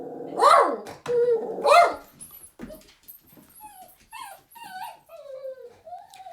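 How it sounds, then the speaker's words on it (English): A small dog gives a few sharp yipping barks up close, then a string of thin, rising whimpers and whines that taper off, heard alone without talk. "that little dog has no respect for my video making, interrupting my very important video"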